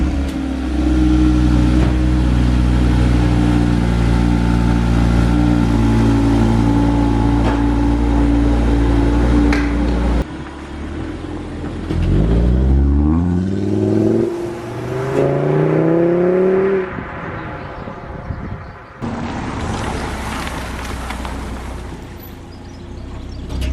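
Audi RS3 car engine heard from inside while driving, a deep steady drone that drops away, then rises through several revving gear pulls with climbing pitch, loud and close.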